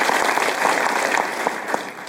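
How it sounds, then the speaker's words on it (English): Audience applause fills a live talk event, a steady wash of many hands clapping with a few sharper individual claps, fading slightly at the end. "clap it up for those answers"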